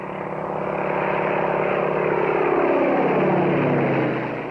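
A propeller airplane on a 1950s survey flight drones low overhead, its steady buzzing engine swelling as it passes close and then easing slightly, with no voices.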